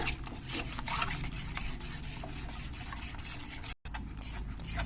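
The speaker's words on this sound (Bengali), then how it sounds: "এরকম করে ঘন ঘন নাড়াতে থাকতে হবে নইলে নিচে লেগে যাবে" Milk and milk powder stirred steadily in a pan for modak, a continuous scraping and rubbing with rhythmic strokes, close and fairly loud, with no talk.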